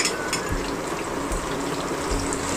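Chopped onion and garlic frying in oil with panch phoron for a vegetable khichuri: a steady, close, broadband sizzle with a few low thumps and no voices.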